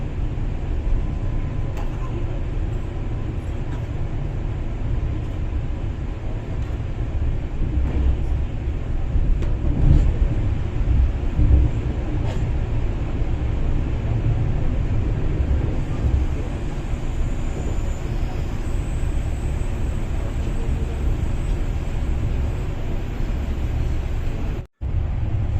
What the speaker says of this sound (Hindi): ट्रेन जब गांव और कस्बों के बीच से गुजरती है